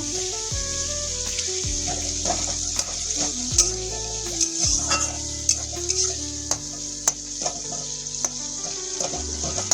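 A spicy tomato and sesame pickle mixture sizzles in a pan while being stirred, a steady low frying hiss broken by scraping clicks from the spatula, with background music playing along.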